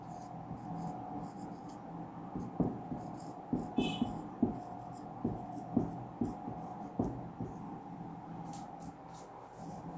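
Chalk or marker tapping and scratching on a board during a math lesson, a series of light, close strokes and taps over a steady low room hum.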